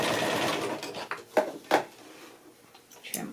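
A sewing machine set to its longest basting stitch runs a quilt block for paper piecing. It whirs steadily at first, then sounds in short separate bursts with small clicks and pauses between them.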